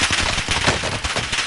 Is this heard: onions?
no